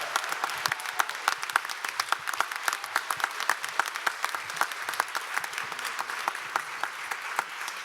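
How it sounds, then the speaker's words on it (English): An audience at an arts education plenary panel breaks into applause, a dense run of many hands clapping at once, steady and moderately loud, with no voices over it. "Let's give them a big round of applause."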